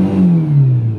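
Fiat Tempra SLX engine, just after a distributor repair, revving loud and close with no load, the tone swelling briefly and then sagging as the revs fall away.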